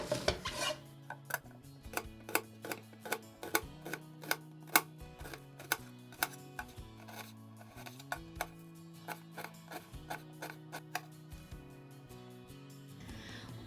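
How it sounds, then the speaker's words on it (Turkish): Rapid, regular knife chops finely cutting an onion on a cutting board, a steady rhythmic tapping close by with low musical tones underneath. "gelin biz bir adet kuru soğanımızı ince ince doğrayalım"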